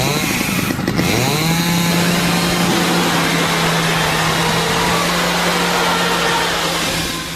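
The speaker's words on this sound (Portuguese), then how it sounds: "Peguei a motosserra e a liguei." A chainsaw pulled into life and left running, its engine rising with a revving whine and then settling into a loud, steady drone that continues for several seconds.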